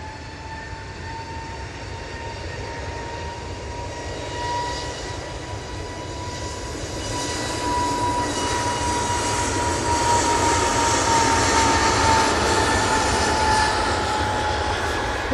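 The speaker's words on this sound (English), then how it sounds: "EasyJet A320neo now on the roll." EasyJet Airbus A320neo starting its takeoff roll at Manchester Airport, its jet engines spooling up with a steady whine and a roar that grows louder and builds toward the end.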